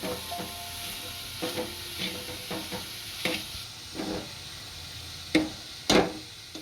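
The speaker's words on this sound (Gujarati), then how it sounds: "સમારેલી કોબી નાખીશું અને સાદી રીતના ભેળવી નાખશું" Chopped cabbage being stirred in a pan for Manchow soup, a utensil scraping and knocking in irregular strokes over a soft sizzle, with two sharper louder clatters near the end and no talking.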